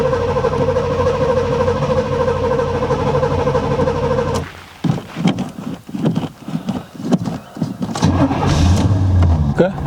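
An old low-mile barn-find Pontiac Trans Am idles loudly and steadily at first, then cuts out and sputters through rough, uneven catches and revs as the smoking engine tries to keep running.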